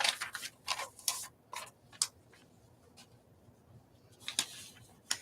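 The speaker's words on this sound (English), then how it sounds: "we do have the sound of the paper tearing" Magazine paper being torn close up, a series of sharp, crisp ripping and crinkling bursts in irregular clusters with quiet gaps between, no voices.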